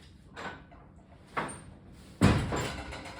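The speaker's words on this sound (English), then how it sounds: "so I better open this door." A workshop door is opened with a few clunks and a sliding rattle, the last impact loudest and closest, with no talking over it.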